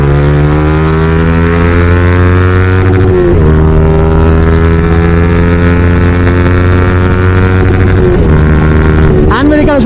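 A Yamaha R15 motorcycle engine runs hard at speed in a loud, sustained high-revving whine, dipping briefly at a couple of points as it shifts and pulls again.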